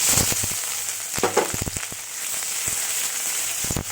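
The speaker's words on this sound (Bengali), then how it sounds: "পেঁয়াজটাকে লাল করে ভেজে নিতে হবে।" Chopped onion sizzling in hot oil in a pan for a potato, soybean and papaya curry, a steady close crackle broken by sharp spits and a few stirring clicks, with no talking.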